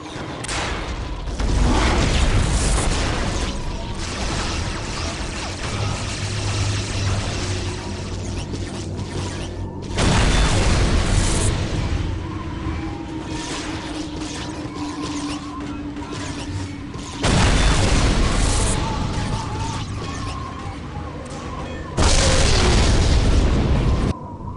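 Enemy artillery fire and explosions in the Dawn of War video game, loud heavy booms and mechanical clatter arriving in several bursts over a dense, sustained battle din.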